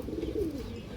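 A large red khaki female pigeon coos in a low, rolling murmur, one steady close call that fills the whole moment with no other sound around it.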